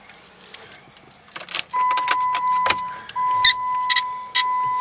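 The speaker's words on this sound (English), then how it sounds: "We're going to put the key in the ignition." Key going into and turning in a Jeep Wrangler ignition, with a few jangling clicks followed by a sustained electronic warning chime, close and clear with no talking.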